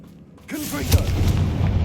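In Hogwarts Legacy, a Confringo fire spell blasts with a sudden booming burst, then a rumbling, crackling roar that stays loud to the end, with a shouted voice briefly over the start.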